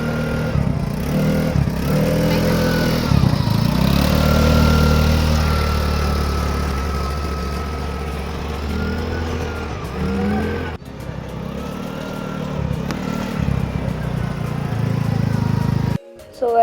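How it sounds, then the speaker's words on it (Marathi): Beach buggy ride near the shore at Dapoli in Konkan: a small engine drones steadily and revs up and down close by, with wind rushing over it and brief dips in the motor noise. "सो गाईज आता मी करतो आहे बग्गी राईड."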